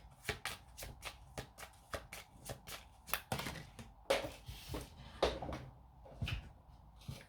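Tarot cards being shuffled by hand in a steady run of crisp riffling bursts, close and fairly loud, with a few sharper slaps and clatters partway through as cards scatter.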